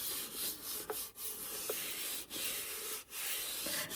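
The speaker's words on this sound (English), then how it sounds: "I'll start rubbing it down in the middle." Paper smoothed with Mod Podge onto a thrift store wooden box gives a steady, close rubbing and scuffing sound with a few short breaks. Nobody speaks.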